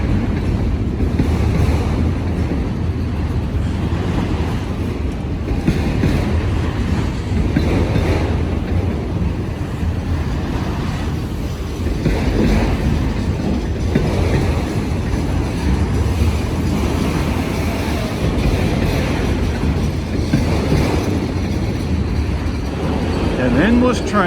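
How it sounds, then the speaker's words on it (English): A two-mile-long CSX grain train rolls past uphill, making a continuous loud rumble and roar of railcars with gusts of wind buffeting the microphone, while people occasionally talk nearby. "Wow, this is an endless train."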